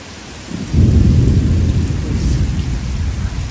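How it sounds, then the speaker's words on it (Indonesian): Heavy rain pours at a farm while a loud, deep thunderclap breaks in and rumbles on close by, sustained over the downpour. "Gluduknya banter guys."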